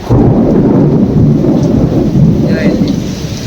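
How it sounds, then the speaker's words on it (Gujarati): Thunder rolls loudly through a violent rainstorm over a farm field, a deep continuous rumble layered with heavy rain that stays close and powerful before easing slightly. "વીજળીના બહુ કડાકા થાય"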